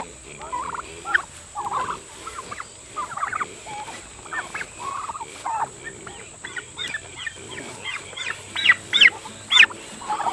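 A young farm-raised turkey loose from its netting pen gobbles and clucks repeatedly in short, close bursts, growing louder and quicker toward the end, with a faint steady hum underneath.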